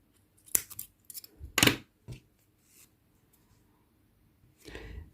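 Scissors snip through yarn while finishing a crocheted amigurumi piece, giving several quiet, sharp, close cuts separated by short pauses.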